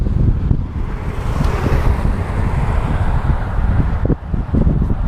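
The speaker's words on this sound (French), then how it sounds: "le vent il souffle bien" Strong wind buffets the microphone of a cyclist riding near Mont-Saint-Michel in a continuous, gusty low roar, loud and close, with no voices.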